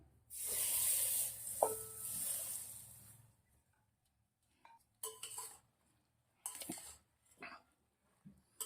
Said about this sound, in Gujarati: હવે આપણે તેલ થોડું ઠંડુ થઈ ગયું છે તો આપણે અંદર તેલ નાખીશું